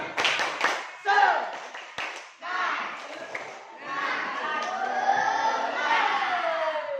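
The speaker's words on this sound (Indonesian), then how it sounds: "Tepuk semangat." A classroom of students performing the rhythmic 'tepuk semangat' spirit clap, with a teacher's voice leading and short bursts of group clapping and chanting mixed in.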